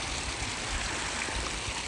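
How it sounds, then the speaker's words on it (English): A five-spout fountain splashes steadily, a continuous even rush of water with no breaks, moderately loud and close. "That's a 5-spout fountain. Just making that beautiful water splashing sound."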